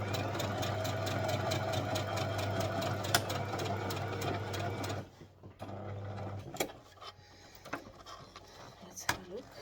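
Sewing machine stitching a small cosmetic bag, a steady rapid mechanical whir for about five seconds before it stops, then quieter handling clicks and taps.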